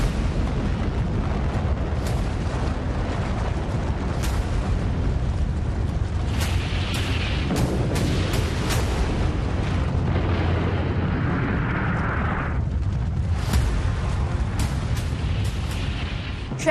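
A nuclear bomb explosion sound effect: a loud, sustained roaring rumble with crackling bursts and sharp pops throughout, and no voices.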